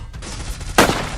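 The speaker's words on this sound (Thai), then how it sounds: "เนี่ยมีเสียงปืนขวา" A single sharp gunshot in the video game Free Fire cracks out over a low rumbling background, followed by a brief ringing tail.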